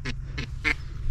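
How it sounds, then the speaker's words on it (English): Gray ducks calling at a Louisiana duck season opener: three distinct quacking bursts, fairly close and loud, each with a different tone, over a steady low rumble of wind or engine. "Do you hear how many different sounds a gray duck makes?"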